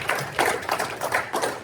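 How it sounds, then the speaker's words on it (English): An audience at a community panel event applauds in a short, uneven round of clapping with several surges, moderately loud and close, with no talk over it. "a round of applause for all of you tonight."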